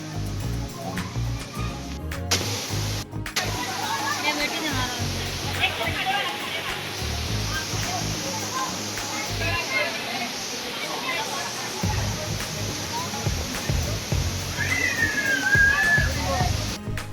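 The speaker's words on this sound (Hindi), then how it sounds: "नीचे वो मेन झरना देखते हैं जहाँ सब नहा रहे थे" The main waterfall at Nrusinghanath Temple in Odisha roars with a steady, dense rush of falling water and splashing, loud and continuous, with people talking faintly.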